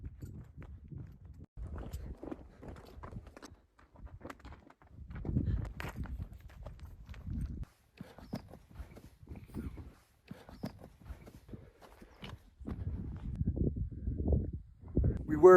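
Irregular hoof clops from horses walking through Mongolian wilderness at a moderate distance, interspersed with brief pauses, while people talk quietly at times.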